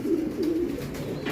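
A racing pigeon coos close by, a soft low throaty warble repeated in short rolling phrases, steady and clear with no voices over it.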